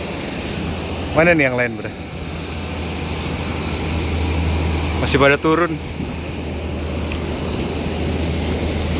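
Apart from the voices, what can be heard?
airplane engines while boarding a plane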